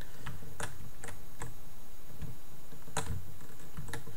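Short, sharp key presses on a computer keyboard's arrow keys, close up, arriving as a loose, irregular run of separate clicks over a low background hum, with no voices.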